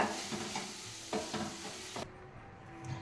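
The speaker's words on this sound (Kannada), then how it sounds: "ಮಿಕ್ಸ್ ಮಾಡ್ತಾ ಇದ್ದೀನಿ." A spoon stirs turmeric through a thick cooking gravy for samosa filling, with soft scraping strokes over a light sizzle, close and fairly quiet, with no one speaking.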